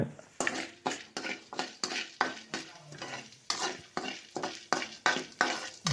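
Ingredients roast in a hot pan for coconut rice, with a spatula scraping and tossing them in about a dozen quick, rhythmic strokes over a soft sizzle, close and without any talk.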